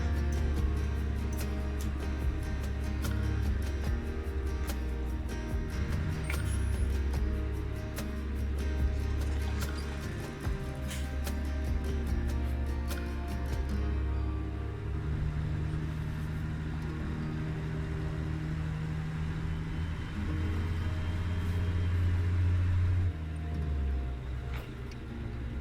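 Mack R truck hauling a Fruehauf fuel tanker in American Truck Simulator, its Jake brake chattering in a loud, sustained low staccato with engine drone for most of the stretch, the pitch shifting partway through, no talking.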